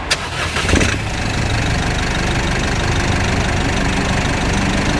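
A 2019 Isuzu D-Max Hi-Lander 1.9 Ddi diesel pickup, with its stock 150-horsepower engine, cranks briefly and fires up near the start, then settles into a loud, steady, close-up diesel idle.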